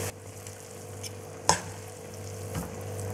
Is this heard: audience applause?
no